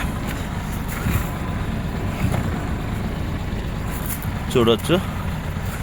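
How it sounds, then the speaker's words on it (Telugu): A Mahindra diesel vehicle's engine runs with a steady low rumble beneath continuous nearby talk, with a few brief louder bumps. "మీకు ఇంజన్ సౌండ్ మీకు చూపిస్తా"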